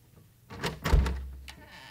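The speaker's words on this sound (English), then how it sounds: "Try the door." An old door in a dim, run-down building is tried and swung open. A solid thunk is followed by a short creak and scrape, heard close and alone with no talk.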